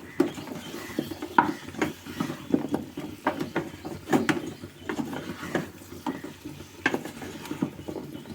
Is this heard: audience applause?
no